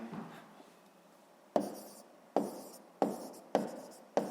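A pen writes an answer on paper in a math exercise, giving a few short scratchy strokes with quiet pauses between them, close and soft.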